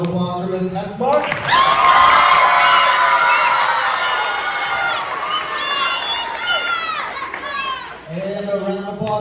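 Children and adults at a school gathering clap and cheer for a teacher, a dense, loud wave of shouting and applause rising sharply and sustained for about seven seconds, with talk briefly before and after.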